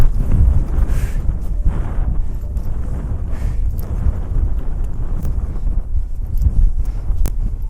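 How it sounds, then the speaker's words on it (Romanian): Strong wind in the alpine zone of the Rodna Mountains buffets the microphone in continuous rumbling gusts, loud and low, with no voices. "Vântul bate din partea asta"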